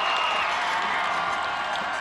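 A dense crowd lining the Kansas City Royals championship parade route cheers steadily, a constant, loud wash of voices and scattered applause with no break.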